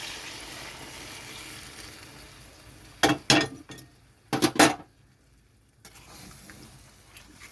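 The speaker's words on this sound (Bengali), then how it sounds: "এখানে আমি জল দিয়ে দিচ্ছি, গরম জল" Hot water splashes into a hot pan of cooked-down masala for a fish curry, giving a few sharp bursts of hissing sizzle over a faint background crackle.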